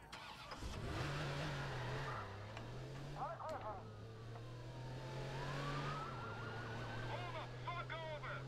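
Police car siren in the Watch Dogs video game, a wailing tone sweeping up and down across the middle of the clip over steady car engine drone, with yelping bursts near the start and end.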